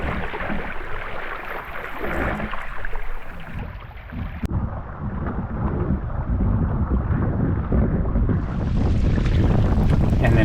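Proa sailboat on a downwind run, with continuous rushing wind buffeting the microphone and water noise around the hull, loud and steady throughout.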